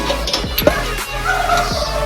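Native country chickens on a poultry farm cluck nearby in short, throaty bursts over a constant background hiss, several birds calling irregularly.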